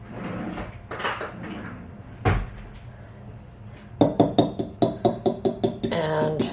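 Biscotti batter with vanilla being mixed in a bowl, a few scattered knocks and then a quick, regular run of bright utensil clinks against the bowl, close and loud.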